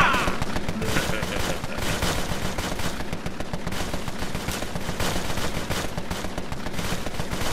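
Rapid gunfire from the game Empire of Sin, dense bursts of shots in a constant barrage, loud and close throughout with a voice talking over it.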